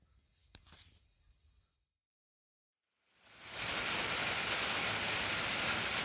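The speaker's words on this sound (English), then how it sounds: "it's starting to rain" Rain falling outdoors starts after a brief spell of faint sound and near silence, then swells within a second into a loud, steady, close hiss of downpour that continues to the end.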